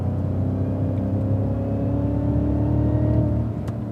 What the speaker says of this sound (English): accelerate hard down the straight